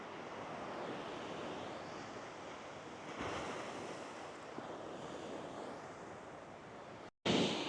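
Surf rolls in steadily at Virgin Beach in Bali, a continuous loud wash of breaking waves mixed with wind buffeting the microphone, with no talking, ending in a brief cut of silence.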